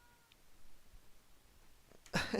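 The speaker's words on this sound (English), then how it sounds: "Sorry if you can hear the cat yowling." A house cat yowls to be let out, a short loud burst near the end after a quiet stretch with faint room noise.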